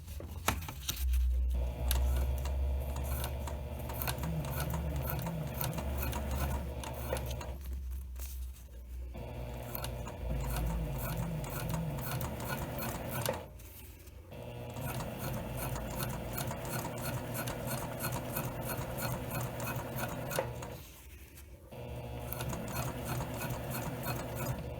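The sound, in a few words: sewing machine stitching fabric and zipper tape for a pouch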